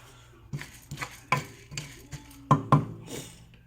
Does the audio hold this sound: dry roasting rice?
yes